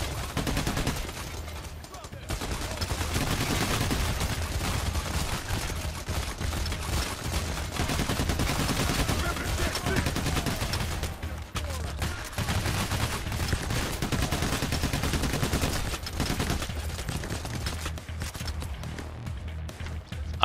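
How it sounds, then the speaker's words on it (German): Sustained gunfire in the heist shooter PAYDAY: The Heist, dense bursts of automatic weapon fire continuing almost without pause, loud and close, with brief lulls and no talk. "Da schießt mich durch die Wand gerade."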